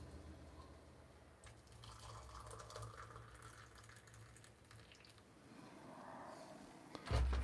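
Hot water pours quietly into a container, a faint, continuous trickling fill that ends with a sharp clunk.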